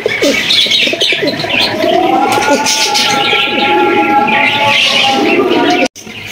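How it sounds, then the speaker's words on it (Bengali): A pair of big oriental pigeons coo loudly and close, with throaty, rolling calls running almost continuously over a busy background. "এখানে রয়েছে একজোড়া ওরিয়েন্টাল কবুতর দেখতেই পাচ্ছেন মাশাআল্লাহ, একদম বিগ সাইজের।"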